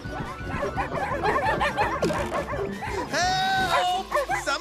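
Cartoon dogs bark and yip excitedly in quick overlapping bursts, close and lively, with a whimpering whine near the end.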